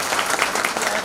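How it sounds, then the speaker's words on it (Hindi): An audience claps loudly and steadily at an election-season gathering, dense applause filling the whole short moment with no voices rising above it. "अब आप लोग एक बार जोरदार ताली बजाइए"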